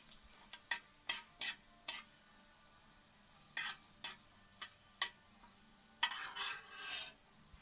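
Torn dried red chilies fry in a hot wok, a faint low sizzle broken by sharp scattered clicks and scrapes of a spatula against the pan, no talking.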